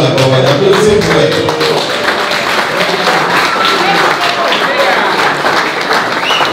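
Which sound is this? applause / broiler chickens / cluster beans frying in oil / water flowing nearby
applause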